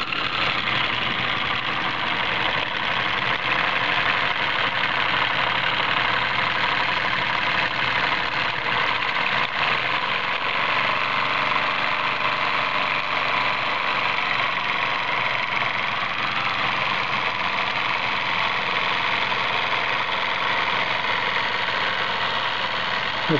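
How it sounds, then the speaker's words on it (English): Mk-I Steamworks J70D steam engine running on its first steaming, with a dense, steady mechanical churn and a rhythmic knock that holds close and loud throughout, without any talking. "Slinging some grease off of the gears right now."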